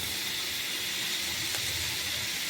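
Button mushrooms sauté in a pan with a soft, steady sizzling hiss, faint and continuous with no voices.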